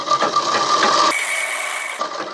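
A sewing machine stitches a gents pathani kurta in a quick mechanical ratcheting whir, close and clear, with a shift in pitch midway through the short burst.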